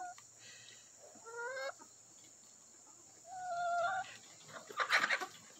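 Buff hens being integrated with a flock make a few soft rising clucks and calls at a distance, in two short bursts, followed by a brief scuffling rustle.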